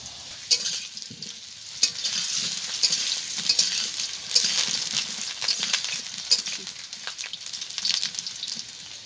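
Potatoes fry in hot oil for a home-style chicken dish, a steady close sizzle with crackling pops and spatter throughout, and no talking.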